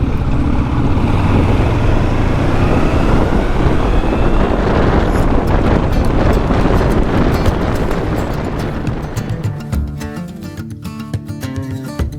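Heavy wind roar from a Honda CB500X motorcycle riding at highway speed, a loud constant rushing blast that eases off toward the end as engine and mechanical ticking come through.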